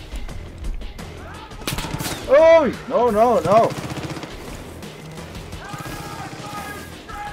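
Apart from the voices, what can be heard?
gunfire from a gun in the video game Far Cry 5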